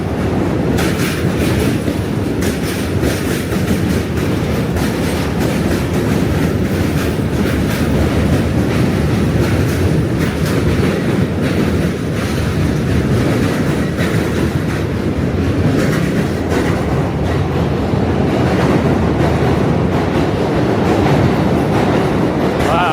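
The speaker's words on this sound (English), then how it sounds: "another train's coming already" A New York City subway train rolls loudly into a station, with a steady heavy rumble, clattering wheels and faint squeal throughout, and no talk over it.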